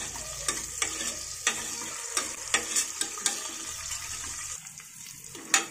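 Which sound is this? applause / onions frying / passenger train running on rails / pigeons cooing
onions frying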